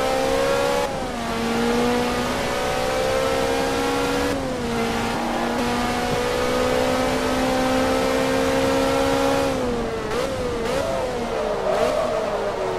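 A Ferrari race car in Forza Motorsport 2 holds a loud, steady engine drone with a clear tonal whine. Pitch shifts slightly as the car lifts and reapplies throttle, with rising revs toward the end.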